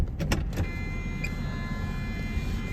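A 1993 Jaguar XJS with a 5-speed idles smoothly outdoors after a warm start. The low engine rumble is steady and close, with a few brief clicks and knocks near the start.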